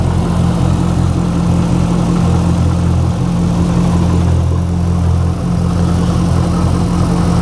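Supercharged LSA V8 with 29,000 miles and a stock pulley idles steadily in a 2013 Camaro ZL1, a smooth, loud, even low rumble with a faint whir and no voices.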